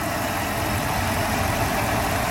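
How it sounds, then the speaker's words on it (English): A 1996 Mercedes S420 idles steadily with its AC compressor engaged, producing a continuous even engine hum with broadband hiss, alone and without talk, no clear cycling change over the short span. "So I want to show the AC compressor operation."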